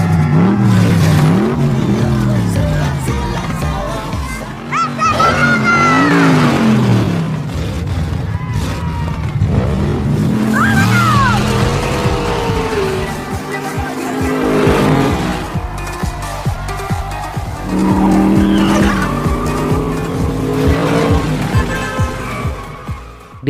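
A street race between a modified old car and a vintage Cuban Chevrolet Bel Air, with loud engines revving and accelerating, tire squeals and passing cars under continuous narration and music.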